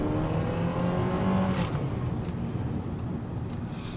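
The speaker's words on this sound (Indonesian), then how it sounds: "Suara mesin masuk," A Mitsubishi Xpander Sport engine hums and revs close by, its pitch rising and falling in a steady, continuous drone.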